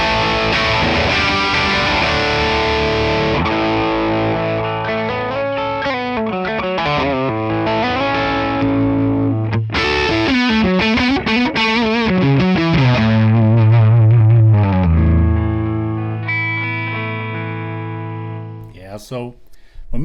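Electric guitar strums chords through a ToneX Plexi amp model with the reverb switched off, giving a loud, distorted, bone-dry tone; the chords ring and change steadily for about fifteen seconds before fading out.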